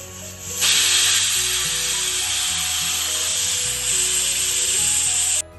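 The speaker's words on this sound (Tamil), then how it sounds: "குக்கரை ஹைல வச்சு ஒரு 3 விசில் வச்சு விடுங்க" A pressure cooker whistle hisses steadily as steam vents while cooking mutton salna, a loud continuous jet that starts abruptly and cuts off near the end over a low hum.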